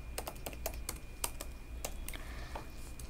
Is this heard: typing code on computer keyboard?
yes